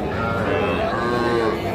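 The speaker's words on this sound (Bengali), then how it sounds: "এই যে দেখছেন, এই পাশে বেশ কিছু বাছুর গরু।" A heifer calf at a cattle market gives a single sustained, nearby moo with clear pitch that fills the moment, with faint market bustle behind it.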